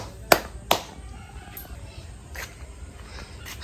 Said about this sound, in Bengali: হাততালি হাততালি